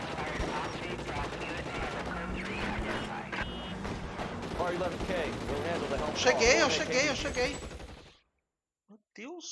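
Heavy gunfire from the crime video game L.A. Noire, dense bursts of rapid shots rattling almost nonstop under excited talk before cutting to near silence.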